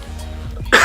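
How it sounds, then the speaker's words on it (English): One harsh, loud cough bursts out close up at the end, after a brief low rumbling throat sound. "Sorry about all the coughing in the video"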